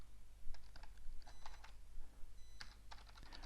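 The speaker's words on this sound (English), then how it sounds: "I'm putting down, typing down my email address" Keys clatter on a computer keyboard as an email address is typed, quick irregular bursts of clicks with short pauses, fairly close and alone over a low steady hum.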